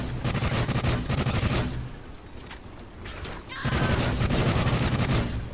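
Rapid, sustained gunfire from a gun in Call of Duty: Ghosts' Alien Extinction mode on the Point of Contact map. Loud, dense bursts pause briefly around the middle, then resume just as heavily.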